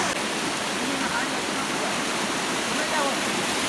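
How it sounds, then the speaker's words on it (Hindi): Steady, dense rushing of a waterfall fills the clip, a constant broadband roar with no breaks, close and fairly loud. "ऊपर से आ रहा है झरना।"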